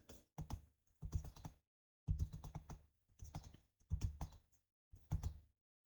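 Bursts of quick, close keystrokes on a computer keyboard come in short separated runs as text is entered into a spreadsheet, with quiet gaps between each burst.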